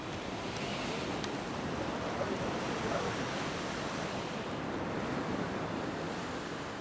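Ocean surf on the Basque coast, a dense continuous roar of breaking waves with wind-like hiss, steady and loud, no voices.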